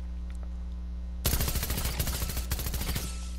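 A Stinger submachine gun fires continuously in a video game, a rapid sustained burst of loud, evenly spaced shots after a quiet hum, with the trigger held down for about two seconds.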